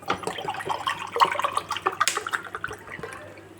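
Water splashes and trickles steadily into a cooking pot for biryani, a close, continuous pouring with small bright splashes throughout.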